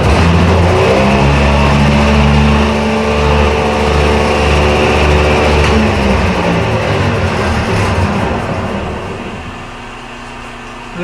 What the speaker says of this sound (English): I'm going to find out most of the noise is coming from the variable speed drive